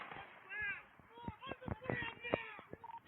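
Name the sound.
gunshots fired by police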